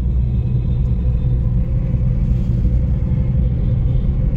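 Road traffic at the ITO intersection in Delhi, a continuous low rumble of car and vehicle engines passing close by, steady and dense with no voices.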